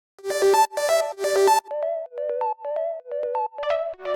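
A layered synth lead with a bright pluck patch panned left plays a rhythmic melodic phrase, three long bright chords followed by a quicker run of short plucked notes, close and clear with no voices.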